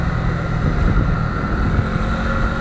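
A Yamaha Nuvo MX scooter with a 58 mm bore kit being ridden, its engine droning steadily and loud throughout with wind rush over the microphone, without any talking.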